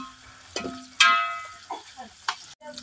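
Onion and bell pepper sauté in a pan with a soft sizzle, broken by a few sharp scrapes and stirring bursts of a spoon, while someone talks over the cooking.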